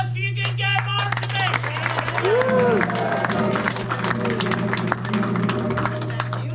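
An audience at a cowboy gunfight show in Tombstone, Arizona claps steadily in an outdoor crowd, with voices and murmuring mixed in over a constant low hum.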